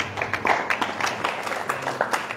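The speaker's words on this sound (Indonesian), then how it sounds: "kita tepuk tangan dulu buat Lala" Audience clapping for a woman at a religious study gathering, a brisk scattered run of hand claps at moderate distance, fairly steady across the moment.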